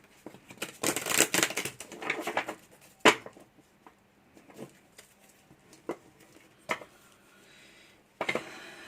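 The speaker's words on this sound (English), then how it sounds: "I'll just do a few more shuffles." Sticky tarot cards being shuffled by hand: a dense burst of papery riffling and slapping at first, then scattered single taps and flicks, close and clear with no talking.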